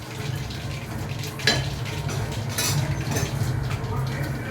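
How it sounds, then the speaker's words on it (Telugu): Mustard seeds fry in hot oil, a steady sizzle and crackle joined by a few clinks and scrapes of the stirring utensil against the pan, close and continuous. "వాటి తర్వాత ఆవాలు వేసుకోండి. అవి కాగే వరకు తిప్పండి. అవి వేగే వరకు తిప్పండి."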